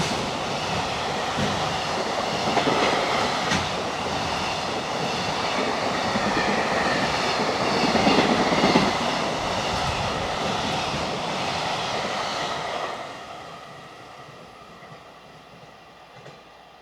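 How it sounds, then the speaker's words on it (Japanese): Freight train 5057 on the Kagoshima Main Line, bound for Fukuoka freight terminal, rumbles past with continuous loud wheel and wagon noise that fades away toward the end. "5057列車、福岡貨物ターミナル行きです。"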